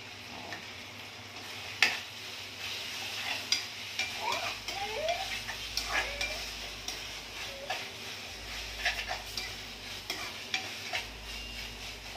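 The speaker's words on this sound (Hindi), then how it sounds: "अब हम इसको एक मिनट के लिए अच्छी तरह से भून लेंगे सारे मसालों को।" Paneer roll stuffing roasts with red chili powder, salt and spices in a pan, a soft low sizzle punctuated by light spatula taps and scrapes, with no talking.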